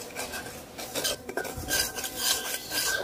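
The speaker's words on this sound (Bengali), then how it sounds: "সুজিটা আমি বেশি একটা ভাজবো না, হালকা একটা ভাজা দেবো যাতে সুজির কাঁচা গন্ধটা না থাকে।" A pan of semolina being lightly roasted and stirred, with a spoon scraping and clinking steadily against the metal throughout, close and fairly quiet, without talk.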